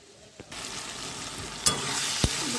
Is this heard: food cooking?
yes